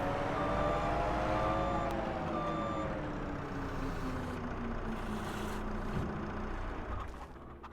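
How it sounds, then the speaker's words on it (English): Skid steer in Farming Simulator 25 rolling into a shed, steady engine rumble with a reversing beeper and a falling mechanical whine, fairly loud and continuous, easing off at the end. "we'll just go ahead and park the skid steer into our shed"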